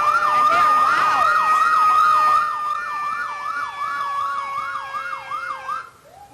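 Fire department vehicles pass in a parade with loud wailing sirens that sweep up and down in a repeating rhythm, several overlapping at first, then fading toward the end.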